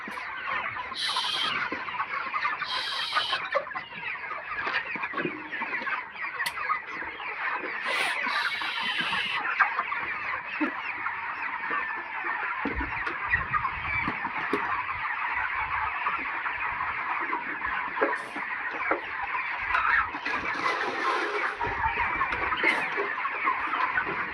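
Many broiler chickens, about 30 days old, cluck and chatter continuously, a dense flock sound filling the space, with occasional louder squawks rising above the steady murmur.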